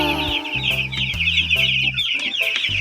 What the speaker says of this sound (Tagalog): Ito po yung chicken natin, yung chick.